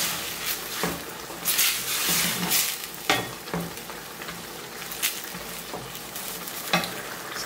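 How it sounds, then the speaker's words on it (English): Spaghetti bolognese sauce cooks in a pan on the stove, giving a dense, steady sizzle and bubbling with occasional spoon taps and scrapes, close and moderately loud. "Then we're just going to let it boil for like 5 minutes"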